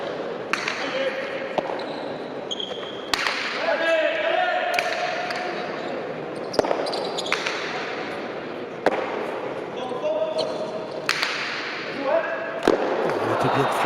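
Pelota ball struck against the fronton wall during a Gant d'or final in Biarritz, sharp loud cracks repeating every few seconds in an echoing court, with crowd noise and commentary talk between strikes.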